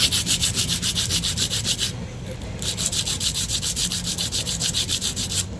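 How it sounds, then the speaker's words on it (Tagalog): Rhythmic, close scratchy rubbing of a small piece of sandpaper on wood, quick back-and-forth strokes with a brief pause midway before the sanding resumes. "ito yung kapirasong liha lang."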